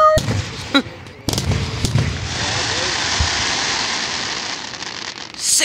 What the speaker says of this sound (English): This is good fireworks right here